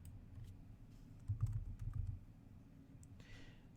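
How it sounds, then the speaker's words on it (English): Keystrokes on a computer keyboard while a name is typed into an assignee field, soft quiet clicks in a short irregular burst amid low background hum, with no voices. "click on the assignee field and start typing the name of the person or group."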